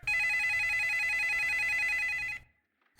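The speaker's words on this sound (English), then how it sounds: "Then her phone rang." A telephone bell rings in one continuous, steady electronic trill for about two and a half seconds, close and clear, then cuts off abruptly into silence.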